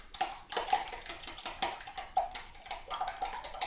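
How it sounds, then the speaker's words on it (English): Eggs, two whole plus four whites, whisked with a fork in a bowl during breakfast prep, giving a run of quick light clinks and taps against the dish, close and fairly soft, with no talk over it. "Mix it up with a fork"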